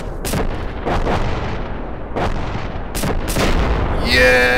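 Satchel charge detonations in the video game Arma 2: several heavy, booming blasts in quick succession, each with a rumbling tail, loud and close, ending in a brief tonal sound.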